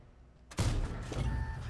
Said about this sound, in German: Wunderschöner Schuss.